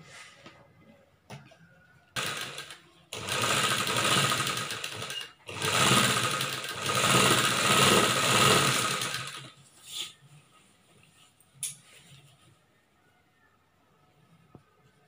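A sewing machine stitches a churidar top in two long, steady runs of motor whir, each a few seconds, with quiet handling noises and pauses around them.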